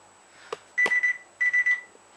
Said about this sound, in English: That's the timer for the rice I'm doing.